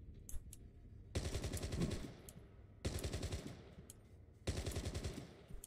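Three bursts of rapid automatic gunfire from an emulated video game, each a quick rattling volley of about a second, separated by short quiet gaps, fairly faint overall with no talking.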